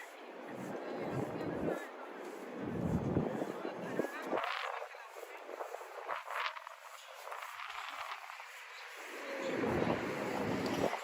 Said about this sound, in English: once we turn this corner here, we're going to get blasted with wind.